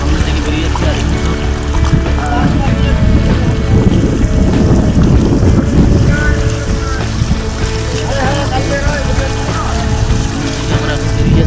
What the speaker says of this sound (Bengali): আমাদের বোট এখন চলছে সামনের দিকে